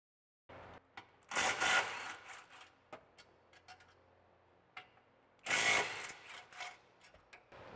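A ratchet on a 13 mm socket with an extension works bolts loose on the exhaust isolator brackets under a 2015-2024 Mustang GT, two bursts of rapid ratcheting clicks between scattered close metallic taps and knocks.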